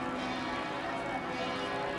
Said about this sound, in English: The pealing of the bells at Notre Dame Basilica as the body of Pierre Elliott Trudeau is taken from the Basilica.